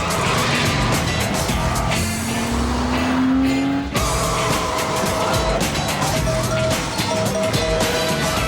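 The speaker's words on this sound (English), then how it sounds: "The Porsche Boxster. There really is no substitute." A Porsche Boxster engine in a TV commercial: a sustained engine drone that rises steadily in pitch, drops off briefly, then returns loud with tire and road noise over a backing soundtrack.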